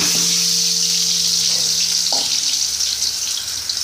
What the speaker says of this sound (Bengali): তেলটা গরম হয়ে গেছে, এবার দিয়ে দেবো আলু